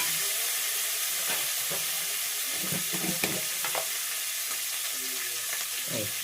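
Ginger and garlic sizzle and fry in a pan for bagara rice, a continuous crackling hiss with a few soft stirring scrapes.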